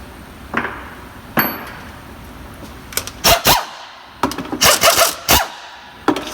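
A tool pries at the transmission pan of a Chevrolet 4L60E in an Envoy/Trailblazer, giving sharp metallic knocks and scraping clunks in irregular bursts, close and fairly loud.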